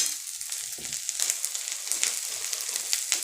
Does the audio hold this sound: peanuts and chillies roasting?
yes